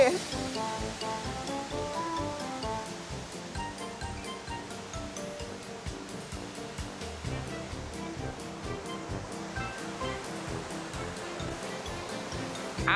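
Steady rushing water roars continuously like a waterfall, a dense wash of noise close by, with a voice speaking over it.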